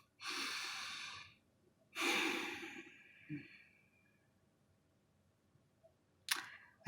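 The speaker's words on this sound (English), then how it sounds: "let's just take a deep breath" A person takes a deep breath close to the microphone: a long drawn-in inhale, then a longer, slowly fading exhale, a small catch, and another short breath near the end, all in a quiet room.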